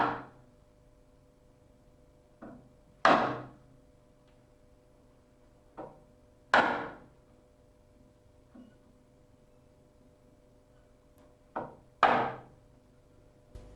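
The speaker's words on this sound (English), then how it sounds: "never use a hammer, only a wooden mallet." A wooden mallet strikes a chisel into timber in sharp, isolated knocks, several loud blows spaced a few seconds apart with softer taps between.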